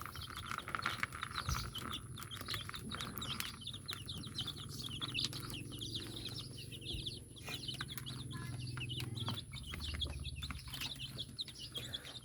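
Chickens clucking in a backyard flock on a morning farm chore, a steady jumble of clucks with occasional wing flaps, moderately distant and constant throughout, with no one talking.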